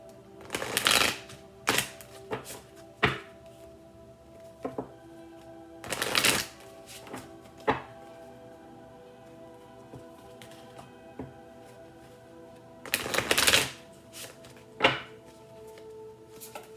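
Tarot cards are shuffled in repeated bursts of riffling, flapping slaps, separated by quieter pauses with soft taps and handling noises, close and fairly quiet with no talking.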